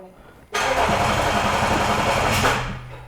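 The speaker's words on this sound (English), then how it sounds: "You're gonna hear loud bangs, and don't be scared because there's no exhaust" A rebuilt Range Rover engine with no exhaust fitted cranks and catches with a sudden loud roar, running rough and uneven for a few seconds with sharp pulsing bangs from the open exhaust.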